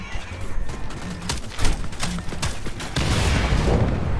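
Smart ammo gunfire from a weapon in the video game Second Extinction, loud rapid bursts of shots running almost without a break and swelling into a heavier, denser volley near the end.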